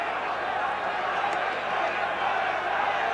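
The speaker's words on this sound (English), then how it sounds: "The match restarts with the crowd cheering to warm themselves up and to warm the New Zealanders" A rugby stadium crowd at a 1981 New Zealand versus Scotland test in Dunedin keeps up a steady, broad roar of cheering, dense and unbroken throughout, with no single voice standing out.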